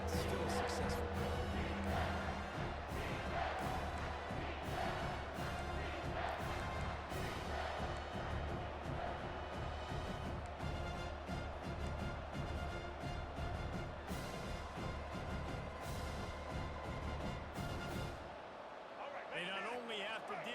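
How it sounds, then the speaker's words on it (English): Loud, continuous roar of a college football stadium crowd during a Prime U vs UCF game, swelling steadily for third and four, with broadcast commentary talking over it before the noise drops away near the end. "the noise from this crowd on 3rd and 4"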